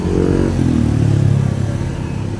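A motorcycle engine sounds loud and close, with a rough, throaty rumble that swells briefly, as if revving, then settles over a couple of seconds.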